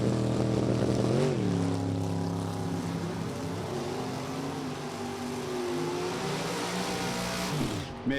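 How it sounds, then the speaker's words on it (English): Drag racing cars, a Plymouth Duster and a Porsche, accelerate hard at an NHRA event, engines rising in pitch, dropping with a gear change, then climbing again as they pull away into the distance. "Dave Margolis and his Duster to take on Keith Mayers out of Ellendale, Delaware"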